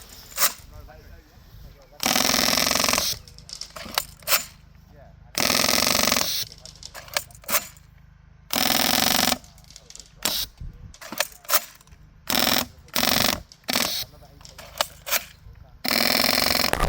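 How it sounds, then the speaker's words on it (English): A rare vintage airsoft gun firing in repeated loud bursts of rapid shots, with sharp mechanical cocking clicks and short pauses between the strings of fire, close up. "I do have some footage of this being shot, and I'll put that on the screen for you now."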